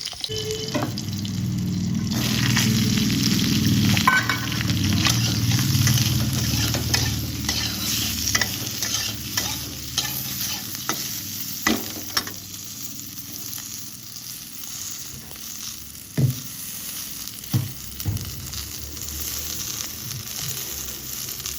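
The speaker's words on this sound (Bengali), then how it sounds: "এদিকে আমি বসিয়ে দিয়েছি গরম তেলে কাঁচা লঙ্কা ফোড়ন দিয়ে দিয়েছি" Green chillies and spinach fry in hot oil, giving a steady loud sizzle broken by scraping stirs and scattered clicks of a utensil against the pan.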